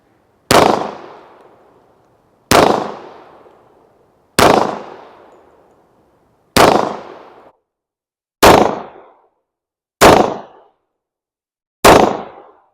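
Rock Island Armory Tac Ultra FS 1911 pistol in .45 ACP firing with KCI magazines: seven loud, sharp shots spaced about two seconds apart, each ringing out with a decaying echo outdoors.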